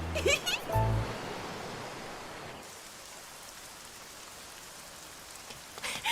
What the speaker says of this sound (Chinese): 怎么突然下雨了呢？